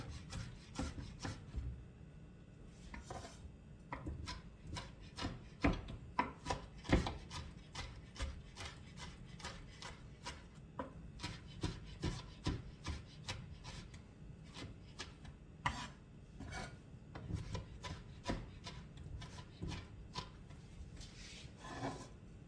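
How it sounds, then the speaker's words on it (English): Rapid, repeated scraping and chopping strokes against a board, fairly close, steady rhythm with occasional louder hits, no talking. "I'm chopping them up now as much as I can."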